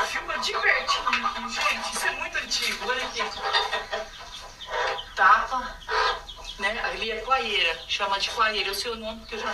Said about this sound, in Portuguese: E aí, ó, tem a galinha aqui. Ó, os pintinhos.